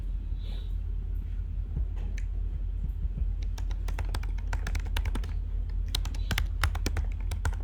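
Rapid typing on a computer keyboard, sparse at first and then a dense run of sharp key clicks over a steady low hum, played alone with no talking.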